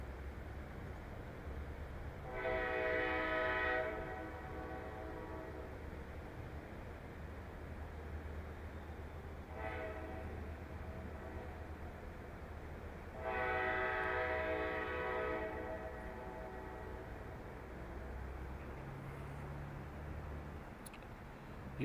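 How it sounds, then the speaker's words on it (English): CN train horns sounding in the distance, three separate sustained blasts, the first and last long and strong, the middle one fainter, over a low steady background rumble with no talking. "now we've got the CN trains honking their fucking horns"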